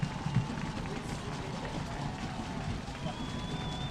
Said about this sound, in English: You can hear the crowd just going crazy.